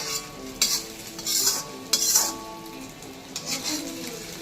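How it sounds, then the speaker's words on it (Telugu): Egg frying in a pan for egg fried rice, with a steady sizzle under repeated metal spatula scrapes and stirring strokes, close and clear. "ఇప్పుడు ఎగ్ వేశారు. ఎగ్ అనేది ఫ్రై అవుతుంది చూడండి"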